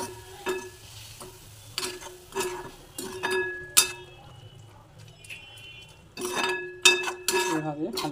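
An egg and soya bean filling is stirred in a pan, metal spoon scraping and clinking against the pan in irregular strokes over a soft, low frying sizzle, with someone talking in between.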